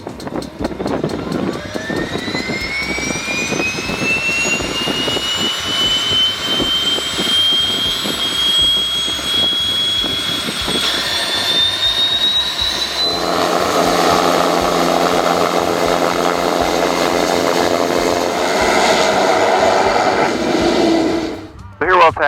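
A Piper Meridian single-engine turboprop taxiing, its loud steady turbine whine rising in pitch, then a broader roar from the cockpit until a brief cut near the end.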